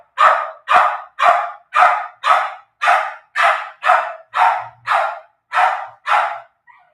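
A dog barks loud and close in a steady, rhythmic run of about a dozen sharp barks, evenly spaced, with no other sound between them.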